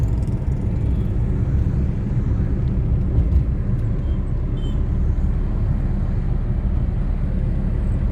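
A car cruises along a highway at about 60 km/h, a steady loud low rumble of engine and road noise filling the whole span without variation, heard from inside the vehicle with no talking.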